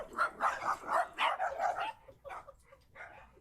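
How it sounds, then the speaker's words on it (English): Small dogs barking in a rapid cluster of yappy barks, loud at first and then thinning to a few quieter yips, close and with no talk over them. "overwhelmed by a group of passing small dogs"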